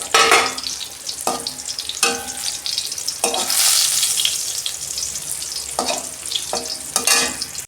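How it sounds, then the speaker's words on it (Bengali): Bitter gourd (karela) fries in a pan with a loud, close sizzle and several sharp scraping bursts as the pieces are turned, and a sustained hiss swells in the middle. "করলাটা উল্টে পাল্টে আমি লাল লাল করে ভেজে নেব"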